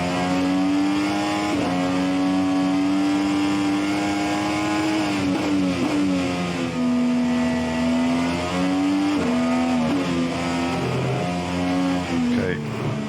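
Dallara IR18 IndyCar engine in the rFactor 2 racing game, a loud, continuous high-pitched whine rising and falling with shifts and revs throughout, close and dominant.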